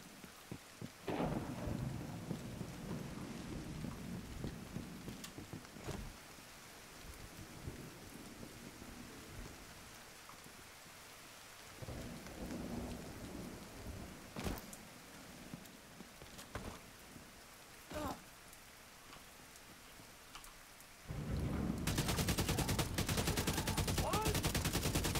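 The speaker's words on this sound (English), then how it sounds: "the rain's bad, isn't it?" Rain and thunder in The Division 2: a steady rain hiss broken by several sharp, loud cracks and booms, then swelling into a much heavier, louder downpour near the end.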